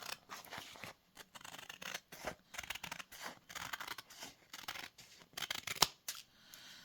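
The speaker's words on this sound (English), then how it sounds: "So what I'm going to do first is I'm going to cut this." Scissors snip through a peelable sticker sheet in close, quiet, repeated cuts with short pauses and a rustle of paper between strokes.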